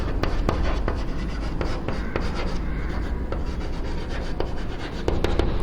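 Chalk or marker rubbing and scraping across a classroom board during a computer science lecture on binary arithmetic, a steady close scratching with brief tapping strokes and no voices.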